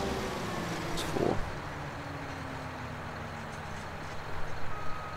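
Farm tractor backing up in a barnyard, its reversing beeper giving a steady tone that stays under a constant engine rumble, with no one talking.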